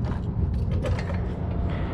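Jack lifting a car to fit coilover suspension, a short close burst of creaking, ratcheting mechanical strokes and metallic rubbing.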